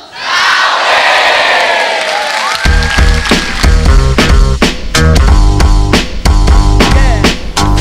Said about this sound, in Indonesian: Kita panggil sama-sama beri tepuk tangan untuk